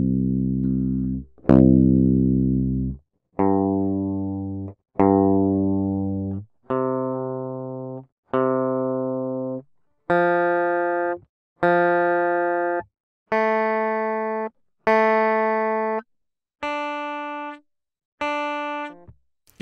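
Electric guitar in drop C tuning sounding its open strings one at a time, low to high, about a dozen plucked notes each ringing and decaying, clean and close with no talking.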